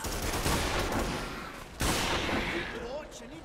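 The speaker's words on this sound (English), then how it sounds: "this shotgun's a raptor killer." Shotgun blasts in the Primal Carnage dinosaur shooter game, two loud sharp reports about a second apart amid busy gameplay noise, with brief chirping creature calls afterward.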